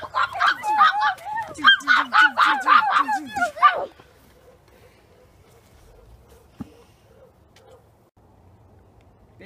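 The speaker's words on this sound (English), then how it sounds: "It's a bird, Spock" A bird honks like a goose in a rapid series of loud, close calls for about four seconds, then goes quiet apart from a faint thump.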